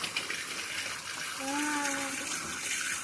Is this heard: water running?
yes